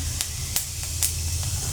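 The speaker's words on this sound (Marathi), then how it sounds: "जिरे चांगले तडतडलेत" Cumin seeds crackle in hot oil in a kadhai, a steady soft hiss broken by a few sharp pops at irregular intervals, close and fairly quiet, with no voices.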